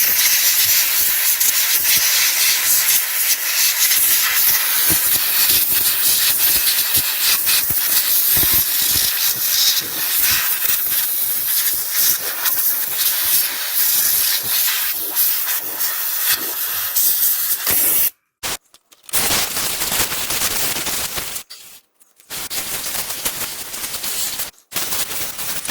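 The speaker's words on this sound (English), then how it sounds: "When you use compressed air for too long, it will start to freeze up on you." Compressed air blasting dust out of a ten-year-old Xbox One console, a loud continuous close hiss running nearly unbroken, then cutting out in a few short gaps near the end, with no voices.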